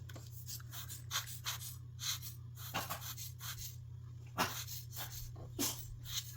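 Dogs at home whimpering and panting to be let outside, soft intermittent whines and breaths recurring in short bursts over a steady low indoor hum.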